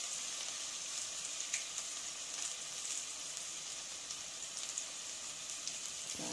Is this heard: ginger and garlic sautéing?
yes